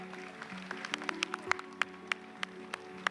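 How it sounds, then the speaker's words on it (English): An audience at an outdoor sports prize giving claps in sparse, scattered, distant claps over a faint steady hum. "Round of applause, please, ladies and gentlemen."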